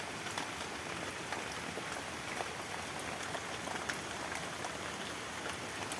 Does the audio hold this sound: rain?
yes